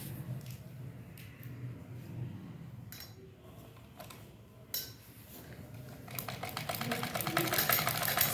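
A sewing machine stitches pockets onto pajamas, first in short bursts with pauses and clicks, then running steadily and loudly in a fast whirring rattle toward the end.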